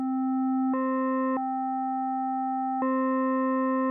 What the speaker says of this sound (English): So there, we're getting close to a square wave.